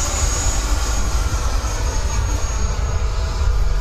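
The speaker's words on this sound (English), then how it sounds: "God, this jet is so fun to fly." An electric RC jet airplane on a 22.2-volt battery roars steadily overhead at high throttle, a continuous loud broadband whoosh with no talking.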